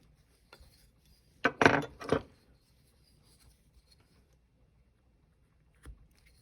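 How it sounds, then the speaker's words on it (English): V-gouge cutting into a wooden Santa carving, a short burst of two or three close scraping, crisp cuts, then near-quiet with faint taps and one last small scrape. "to define the lower part of that tassel, just use a V-gouge"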